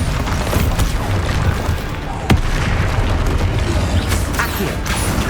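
A Bombarda spell blasts in Hogwarts Legacy with a loud booming explosion, one sharp burst near the middle over a continuous rumbling, crackling battle din.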